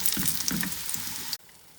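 A vegetable cheese crepe sizzles steadily in a pan, a close, bright frying hiss with soft scraping bursts underneath, cut off abruptly near the end to near silence.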